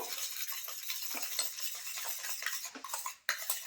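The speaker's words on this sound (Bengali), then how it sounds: "দুধের সঙ্গে ইনোটা কিন্তু খুব ভালোভাবে মিশিয়ে নেব" Eno being stirred into milk for a Christmas sponge cake batter, a steady scraping, clinking whisk or spoon against a bowl with repeated strokes, close and moderately loud, no talking.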